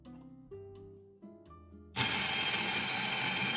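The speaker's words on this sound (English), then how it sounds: "let's throw the beans and then turn on the grinder" A Starseeker E55 coffee grinder first gives a few short mechanical clicks and tones, then switches on into a loud, steady, dense grinding roar as it chews through coffee beans.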